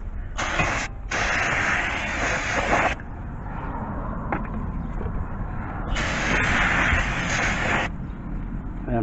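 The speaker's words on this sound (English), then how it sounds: "I'm just gonna go ahead and spray a little bit on this rotor." Two bursts of brake cleaner spray hiss loudly and steadily onto a 2013-2018 Nissan Sentra's front brake rotor, separated by a pause filled with low background rumble.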